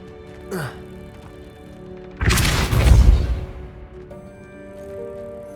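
A Depulso force spell cast in the Hogwarts Legacy video game sounds as a single heavy whooshing burst with a deep rumbling thud, following a brief swish and fading over a quiet game ambience.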